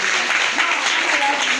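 Children clap together at a primary school academic excellence awards ceremony, a brisk, continuous patter of many small hands with some voices mixed in.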